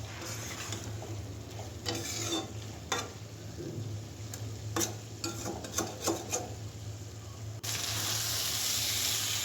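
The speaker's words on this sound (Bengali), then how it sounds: "খোলা অবস্থাতেই একটু নেড়ে চেড়ে যেন ঝোলটা শুকিয়ে যায়" Curry of flat beans and dried Loitta fish simmering uncovered, a quiet sizzle with intermittent spatula stirs and scrapes against the pan, a steady hiss near the end.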